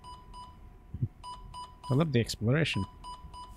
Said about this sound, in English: Something's beeping away.